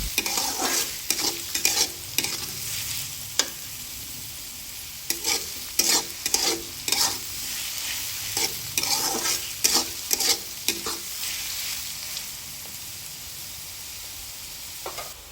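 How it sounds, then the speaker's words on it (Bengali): Chopped onions sizzle and fry in hot oil for a chicken biryani, with a steady crackling hiss broken by repeated scraping stirs of a spoon against the pan, close up and without any talk. "পেঁয়াজ দেওয়ার পর নেড়ে চেড়ে পেঁয়াজগুলো আমাদের একটু নরম করে নিতে হবে।"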